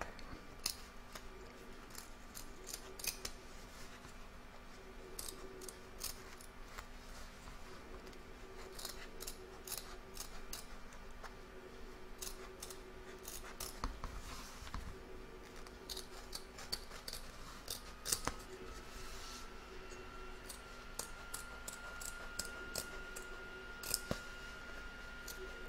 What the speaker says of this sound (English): turn my hoop over and cut around the edge.